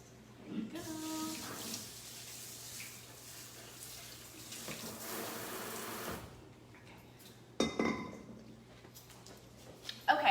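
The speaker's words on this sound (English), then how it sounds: "I'm just going to go drain these over here." Soaked dried beans are drained at a kitchen sink, with running water splashing steadily for several seconds, then a pause and a few clattering knocks near the end.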